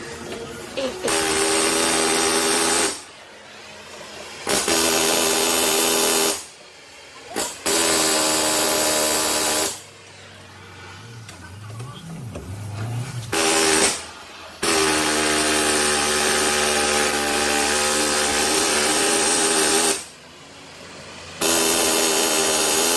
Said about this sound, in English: we're going to try heating it while Billy air hammers it and Eric is filming.